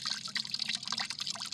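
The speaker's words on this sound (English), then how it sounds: "Funnel juice from the bucket into the carboy." Homemade apple juice pours from a bucket through a funnel into a carboy, a steady close-up splashing trickle with bright watery texture that runs continuously throughout, with no voices.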